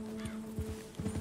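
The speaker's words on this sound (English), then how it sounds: "Control your horse, Arthur." Horse hooves clip-clopping with a short whinny in the video game Red Dead Redemption 2, a few close hoof strikes at an uneven walking pace over a low background hum, brief and moderately quiet.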